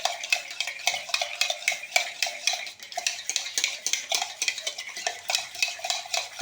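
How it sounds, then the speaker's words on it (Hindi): Baby parrot hand-feeding formula stirred briskly in a bowl, a steady, rapid rhythm of close scraping and light clinking strokes continuing throughout, with no voices. "बिल्कुल आपने अच्छे तरीके से इसको मिक्स कर लेना है ताकि इसमें कोई गुठली ना रहे।"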